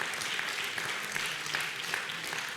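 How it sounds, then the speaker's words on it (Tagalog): Congregation at a Wednesday Bible study clapping together for the Lord, a dense, steady patter of many hands filling the room without a break. "Sige, palakpak sa Panginoon."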